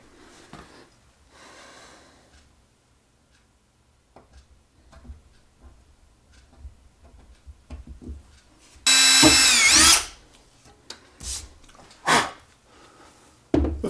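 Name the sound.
power drill drilling with a drill bit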